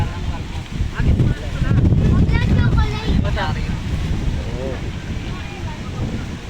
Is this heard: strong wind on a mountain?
yes